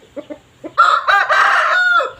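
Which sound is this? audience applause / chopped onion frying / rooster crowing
rooster crowing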